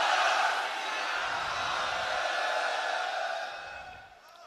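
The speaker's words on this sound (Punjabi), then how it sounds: "ਉਹਨਾਂ ਲਈ ਇੱਕ ਜਕਾਰਾ ਛੱਡਣਾ ਹੈ।" A large Sikh crowd at Shri Anandpur Sahib roars a jaikara war cry together, a loud sustained massed shout that swells and then fades away after several seconds.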